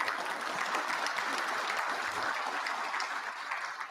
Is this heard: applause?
yes